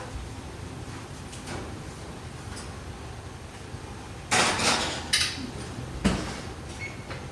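A brownie pan goes into a preheated oven set to 350 degrees, giving a few sharp metallic clanks and rattles of pan and rack in a quiet kitchen, with low background hum.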